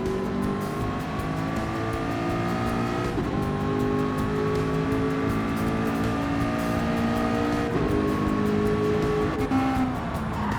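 A Ford race car's engine drones continuously in Gran Turismo 7, with steady harmonic tones that sag and climb as the car shifts and accelerates, loud and close with no talk.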